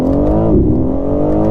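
A 2023 BMW M4 Competition xDrive engine pulls hard under acceleration, a loud, close, continuous engine roar whose pitch dips briefly at a gear change before climbing again.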